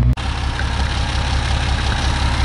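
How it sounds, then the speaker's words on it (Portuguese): A Chevrolet Silverado's six-cylinder MWM turbo diesel runs loud and close with a steady, heavy low-pitched rumble and rhythmic chugging, heard after a brief cut at the start. "Silverado, 6 cilindros, meu amigo. Motor MWM. É, turbo diesel."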